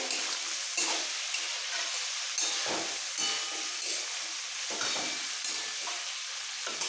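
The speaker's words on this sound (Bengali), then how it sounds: "এক চামচ গ্রেট করা আদা দুটো চেরা কাঁচা লঙ্কা একসাথে ভাজতে ভাজতে কষি নিতে হবে" Grated ginger and slit green chillies fry in a pan, a steady soft sizzle broken every second or so by a stirring scrape, close by with no talk.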